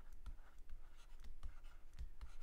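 Chalk or marker writing on a board during a Slovak university math lecture on local and global extrema: a series of short, distinct taps and scratches in an uneven rhythm, close and fairly clear, with no talk.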